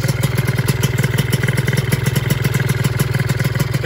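A Yamaha F1ZR 125 two-stroke motorcycle engine runs close by at a steady fast idle, its even rapid pulses loud and continuous with no talking.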